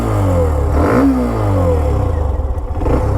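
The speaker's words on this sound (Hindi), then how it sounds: "तो मैं गाड़ी स्टार्ट करता हूँ और सबसे पहले मैं आप लोगों को इसका साउंड ही सुना देता हूँ।" A Hero Xtreme 125R motorcycle's 125cc single-cylinder engine runs up close, with a throttle blip and rev around the first second settling into a steady, throbbing idle.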